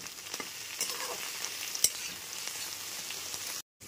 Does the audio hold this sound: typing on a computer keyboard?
no